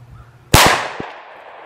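A single sharp, loud gunshot from a 10 mm pistol fired outdoors into clay blocks, with a crisp crack followed by a quick echo and a fading tail.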